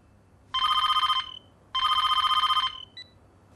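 An old-style telephone bell rings twice, two loud, long electronic trills separated by a short gap, followed by a brief faint beep, alone in a quiet room.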